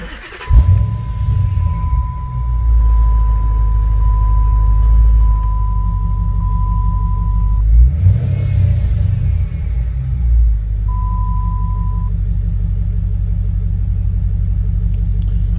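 A Dodge Challenger R/T with a Hellcat lower front idles close by as a steady, deep rumble that holds even, with one brief swell partway through.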